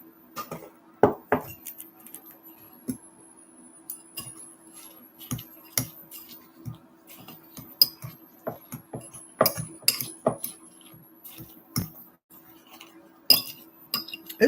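Salmon patty mixture is mixed in a bowl, with repeated clinks and taps of a utensil against the bowl. The taps come in an uneven rhythm and sound close and quiet, with no talking.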